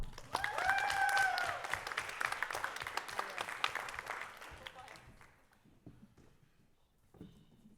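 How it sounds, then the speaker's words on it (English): An audience at a school activities club event breaks into clapping, dense and fairly close at first, then tapering off to a few scattered claps and near silence. "let's give them a round of applause"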